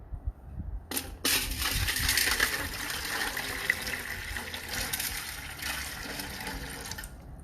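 Water poured for ritual washing, a steady splashing stream that starts abruptly, runs for several seconds and cuts off, close and moderately loud, no talking.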